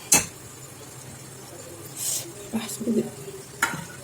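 Mutton with onions and tomatoes sautés in a pan, a low sizzle under a few sharp utensil clinks and scraping stirs, close up with soft background murmur.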